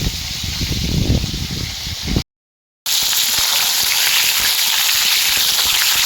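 Large pieces of piranha fish frying in oil in a kadai, giving a loud, steady, close sizzle and crackle that cuts out abruptly for a moment, then resumes.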